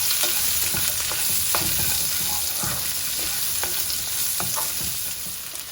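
Two roughly chopped onions fry in a hot pan with a steady, close sizzle, broken now and then by the scrape and clatter of stirring, with no talking.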